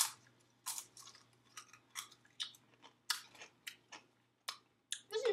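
Spicy chips are crunched up close, a series of sharp crisp bites and chews spaced irregularly over quiet, with no talking.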